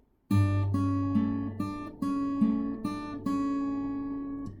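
Guitar plays the intro of a song, a clean plucked pattern of repeating note groups entering after a short silence, close and steady.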